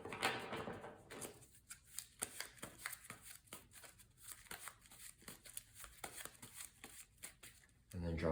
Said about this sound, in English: And then let's shuffle up the player deck.